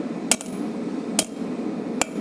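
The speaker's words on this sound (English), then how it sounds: "So the way we do that is by using the peen of our hammer. And what I'll be doing is I'll be hitting it this way." Three sharp metallic strikes of a hammer peen on a railroad spike being forged into a knife blade, spaced unevenly about a second apart, close and loud over a low background hum.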